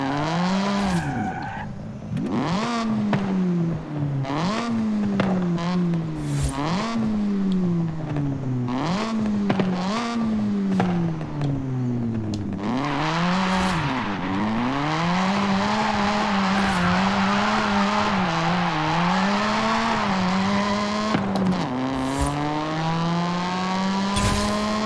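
Car engines in the Forza Horizon 5 racing game roar loudly and continuously, with repeated revving, rising and falling gear shifts and tire squeal throughout, no talking.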